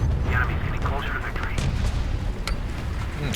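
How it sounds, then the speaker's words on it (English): Gunfire in a War Thunder realistic tank battle, with sharp cracks at intervals over steady vehicle engine rumble, and someone talking throughout. "Something's firing at me here"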